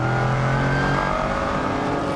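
Race cars at a Supercar Challenge round on the Assen circuit roar with a loud, sustained engine note whose pitch climbs and shifts as they race.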